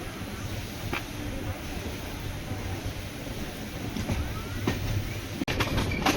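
Pallavan Superfast Express from Karaikudi to Chennai Egmore rumbling steadily along the rails, a continuous close rolling noise with faint rhythmic clicks and a sharp bump near the end.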